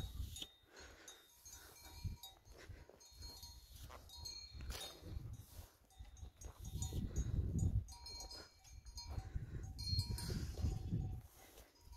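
A herd of goats grazing near Țarcu mountain on an October day, with bleats, clanking bells and rustling movement spread through the scene, growing louder and busier toward the end, outdoors and fairly close.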